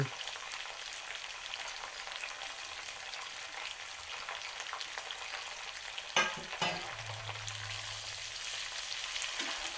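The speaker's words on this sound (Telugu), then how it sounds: "కొంచెం కరివేపాకు వేసి దోరగా వేగనివ్వాలి." Curry leaves, green chillies, tomato, onion and carrot fry in a pan for a semolina upma, giving a close, steady sizzle. A couple of sharp knocks from stirring come midway, with no voices.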